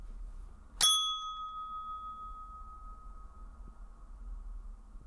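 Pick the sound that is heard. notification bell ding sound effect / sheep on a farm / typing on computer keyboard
notification bell ding sound effect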